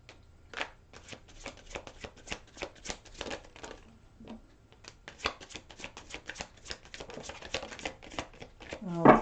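Tarot cards shuffled by hand in quick, rapid riffling bursts with a brief pause midway, close and fairly loud, with no talk over them.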